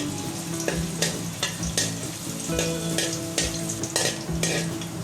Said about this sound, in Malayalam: ഇനി ഇതിലേക്ക് നമുക്ക് കുറച്ച് വെളുത്തുള്ളി ആഡ് ചെയ്ത് കൊടുക്കാം. ഇതൊന്ന് വഴറ്റി കൊടുക്കാം.